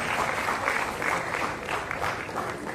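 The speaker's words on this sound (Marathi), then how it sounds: "जोरदार टाळ्या." Applause from an audience at a Marathi college felicitation ceremony, a steady wash of many hands clapping for a teacher being honoured, continuous and fairly even throughout without any voices.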